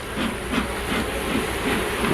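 A bee smoker puffs smoke into a hive during a late-May hive inspection, giving soft repeated hissing bursts over a steady background hiss.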